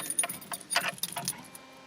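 Car keys jangle inside a 1985 Ford Capri, several bright metallic clinks in quick irregular bursts, close and fairly loud, fading toward the end.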